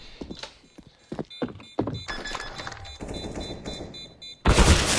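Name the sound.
gunfire in video game match on map Cache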